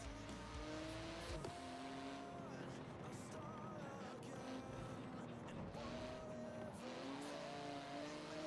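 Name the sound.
Porsche GT2 RS car driving in video game Forza Horizon 4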